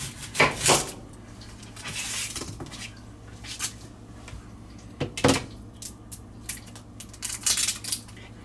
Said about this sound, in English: So I am going to cut this onion.